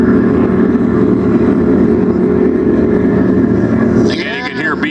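A Class 4 offshore racing powerboat at the St. Clair River Classic roars steadily with its engine noise, while a commentator talks over it; near the end the throttle eases and the engine pitch sweeps down and up.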